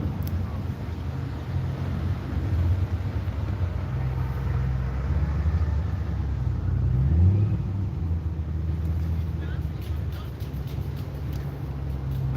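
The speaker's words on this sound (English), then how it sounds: "we've got a Corvette coming up. C3 Corvette" A C3 Corvette rolls by as it departs a Stars & Stripes car show, a steady low engine rumble building to a peak near the middle and easing off, with some wind noise over it.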